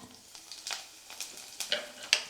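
Chana dal and small-cut dried red chillies fry in hot oil in a pan, a soft steady sizzle broken by a few sharp stirring scrapes and clicks, close and fairly quiet with no talking.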